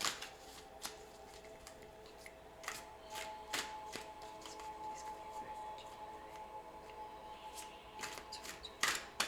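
Riffling shuffles of Shadowscapes tarot cards close to the microphone, repeated crisp flutters over several seconds with a faint voice at times.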